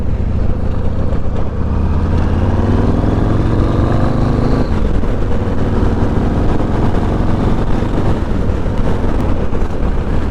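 A Yamaha MT-01 motorcycle's engine drones loudly and continuously while riding, rising in pitch with acceleration and then easing after a shift, with wind buffeting the microphone throughout.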